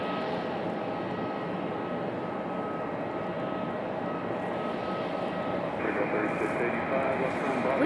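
Delta Boeing 737-900 arriving at Raleigh Durham airport from Atlanta, a steady jet engine roar at moderate distance that grows slightly louder toward the end, with voices talking over it.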